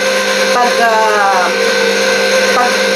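Stand mixer kneading pan de coco dough on slow speed, giving off a loud continuous motor hum with a steady whine and no breaks.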